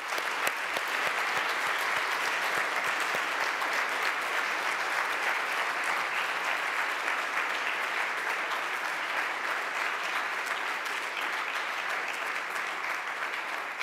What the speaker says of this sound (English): A big applause for all the ones who make that possible.